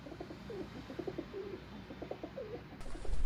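Pigeons kept in a Punjabi Malwai flock coo in soft, repeated low rolling calls, fairly close but quiet over a faint background hiss, with no voices.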